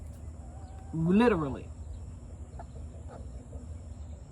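Roosters and chickens in a backyard pen give a single loud, drawn-out crowing or squawking call lasting about half a second, over steady insect buzz and faint background clucks.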